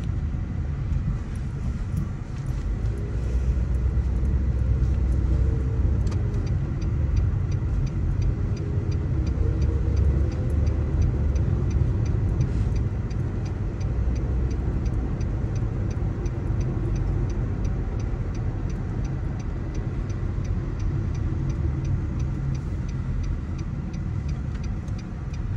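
A car being parked during a driving test gives a steady low engine rumble and road noise throughout, with a faint regular ticking above it and no talk.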